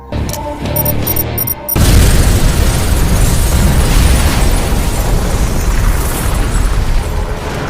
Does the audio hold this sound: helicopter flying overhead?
no